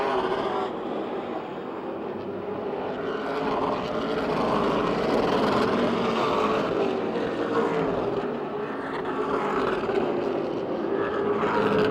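Race cars lapping in a short 25-lap sprint at Motordrome Speedway drone continuously, a dense engine roar rising and falling slightly as the pack circulates, fairly loud with no break.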